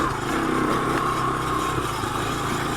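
A 1986 Honda ATC200X three-wheeler runs in first gear, its small single-cylinder engine buzzing loud and steady up close, with no one talking over it.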